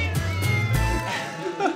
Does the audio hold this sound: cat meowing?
yes